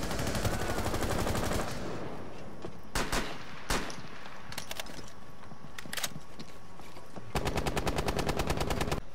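Rapid automatic gunfire from a gun in Rainbow Six Siege, loud sustained bursts at the start and end with a few isolated single shots between.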